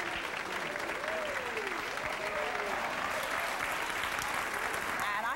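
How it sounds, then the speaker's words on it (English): A studio audience on a talk show breaks into steady, sustained applause, heard somewhat distant and even, with faint voices calling out over the clapping. "That applause came from the guys,"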